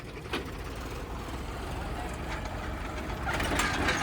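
An old tractor engine idles with a steady low rumble under broad mechanical noise that grows slightly louder near the end.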